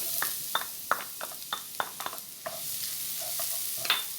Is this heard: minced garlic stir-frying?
yes